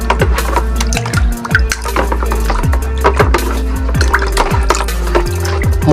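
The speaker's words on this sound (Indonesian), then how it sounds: "Kita aduk sampai larut" NPK and urea fertilizer is stirred into water in a container until it dissolves, giving a steady run of close scraping and knocking strokes at a regular rhythm.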